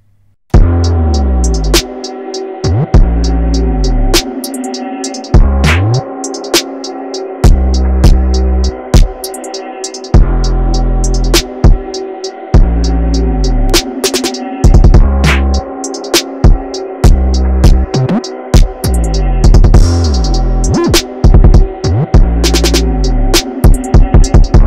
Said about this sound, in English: I added the 808, which sounds like this.